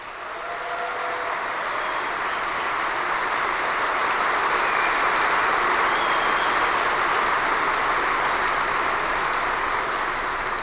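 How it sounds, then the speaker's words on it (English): A large audience applauds in a dense, steady wash of clapping that swells over the first second or two, then holds loud and even throughout. "Let's give that guy a round of applause."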